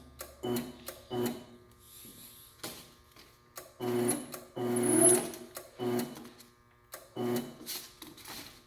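A Rosback 3-knife trimmer, a variable-frequency-drive machine with a brake motor, is jogged on its inch button. It gives short, separate bursts of mechanical clatter and whir, roughly eight stops and starts at close range, with no talk.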